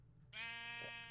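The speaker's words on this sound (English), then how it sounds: "what I have come across are a sheep who is being very noisy" A sheep in Minecraft gives a single drawn-out, wavering bleat that starts abruptly and carries on, heard fairly faintly over quiet game ambience with no talking.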